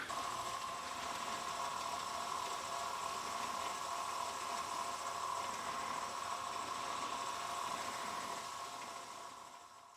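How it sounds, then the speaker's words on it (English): A wood lathe turns very slowly at about 100 RPM, making a quiet, steady mechanical whir with a faint ticking texture throughout. "Turn the lathe on super slow, 100 RPMs."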